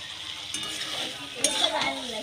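A spice paste with whisked yogurt sautés in a pan for a rohu fish curry. A soft, continuous sizzle runs under occasional stirring scrapes, close and moderately quiet.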